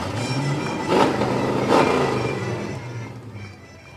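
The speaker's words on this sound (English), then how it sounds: "Rev it up, Stevie." A modified 1968 Camaro SS engine revving at a Fourth of July street parade, two short throttle blips over a steady idle, fairly close and loud, then easing back down.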